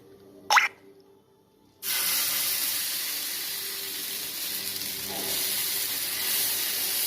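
Adai batter is poured onto a hot griddle: after a single light clink, a loud, steady hiss bursts in and continues evenly, close by with no talking.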